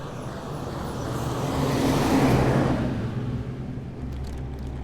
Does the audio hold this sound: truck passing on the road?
yes